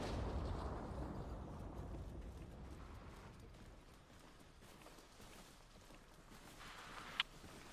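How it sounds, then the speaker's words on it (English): A distant explosion in the military shooter Arma Reforger, set off when a vehicle drives onto a mine. It is faint and muffled, with a low boom at the start fading into rumble and a small sharp pop near the end. "What was that explosion?"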